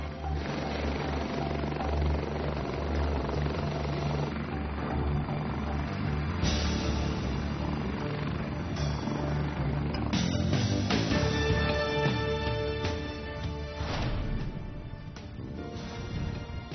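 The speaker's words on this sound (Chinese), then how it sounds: "记者将登上教员阮冰和学员真真驾驶的这架直升机。" A military army-aviation helicopter flying during a sea training exercise, a continuous loud rotor and engine roar with a rhythmic chop that holds steady throughout.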